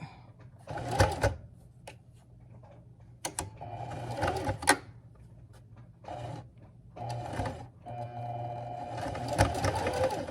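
A sewing machine stitching in the ditch along a seam, running in short bursts of rapid mechanical whirring separated by pauses, close and fairly loud.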